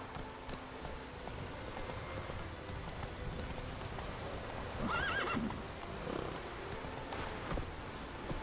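Roach, a horse in The Witcher 3, gallops with soft clip-clopping hooves over rain-like hiss, and a clear neigh rises partway through.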